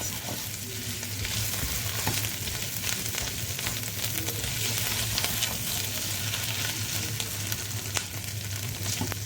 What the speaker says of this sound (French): Je fais cuire l'oignon.